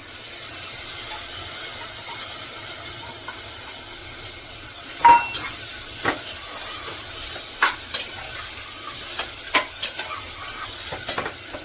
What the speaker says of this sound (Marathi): पहिलं हे असं सगळं फोडणीमध्ये टाकून देते